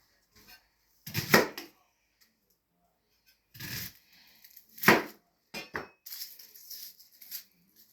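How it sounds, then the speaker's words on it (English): An onion is cut up with a knife in a Cajun home kitchen: a handful of sharp, close chopping strikes land at irregular intervals, with quiet pauses between them. "we're going to cut up our onion."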